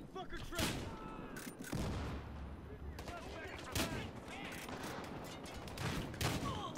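Rapid bursts of gunfire in a deathmatch video game, with loud shots cracking out in clusters and a near-continuous rattle of firing and impacts throughout.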